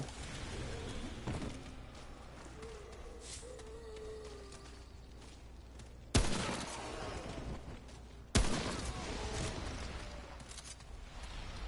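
Hunting rifle fired in Remnant: From the Ashes, two sharp loud shots several seconds apart over a constant rumbling game ambience with faint distant sounds.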